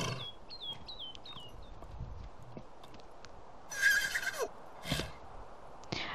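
A horse in the Sims 3 video game whinnies in a quick series of high, falling calls, followed by softer snorts and clip-clopping hooves, fairly faint against a quiet background.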